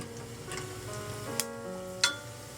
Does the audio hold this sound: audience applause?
no